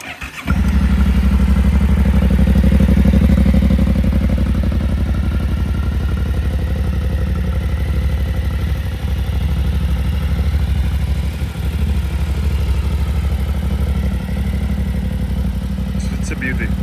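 A 2025 Yamaha Ténéré 700 motorcycle starts up and idles nearby, with a steady, loud, throbbing engine note that dips slightly now and then. A voice is heard faintly in the background.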